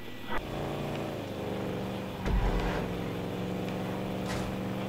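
Muscle car engine in GTA Online runs at a steady low rumble throughout, with a brief louder rev surge midway, like a continuous game engine drone with no talk.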